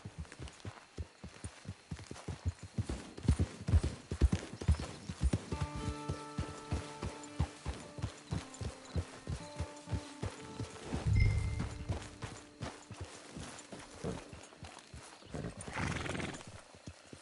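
Steady clip-clop of horse hooves walking in Red Dead Online, with a whinny partway through and a game music bed underneath; hooves loud and close throughout.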